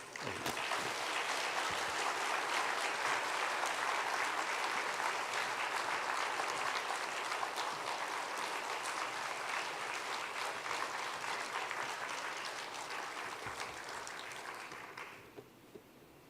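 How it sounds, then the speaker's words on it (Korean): A seated audience at a church-run well-dying class gives a speaker a long, dense round of welcoming applause, a steady roar of many hands that holds for about fifteen seconds before thinning and fading out. "우리 나오실 때 크게 환영의 박수 해주시기 바랍니다"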